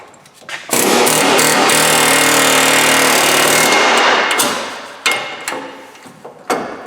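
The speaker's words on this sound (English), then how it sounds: "like to hear the sound of impact tools in use" An air impact tool hammers at the trac bar end on a Ford Super Duty pickup. It gives a loud, sustained rattling burst of about three seconds, then several short sharp bursts, with no talking.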